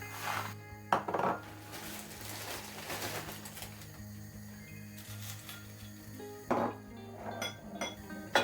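A mix of assorted dried peppers poured into a dish while preparing seasoning for crunchy pickled cucumbers, giving scattered rattling clinks and a few sharper bursts over steady low background music, with no talk.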